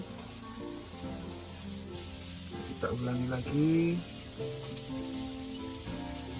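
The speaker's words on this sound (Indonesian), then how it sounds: "kita masukkan langsung ke dalam minyak panas. Nah langsung kita goreng." Flour-coated KFC-style crispy chicken dropped into hot oil, giving a steady close sizzle that swells briefly as pieces go in, with someone talking over the frying.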